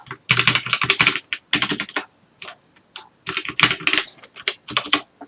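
Fingers type on a computer keyboard in quick bursts of clicking keystrokes separated by short pauses, close and crisp, with no voices.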